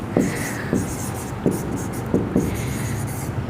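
Chalk or marker scratching across a classroom board during a biology lecture, with short strokes and taps every half second or so, close and moderately loud, with faint hiss between strokes and no speech.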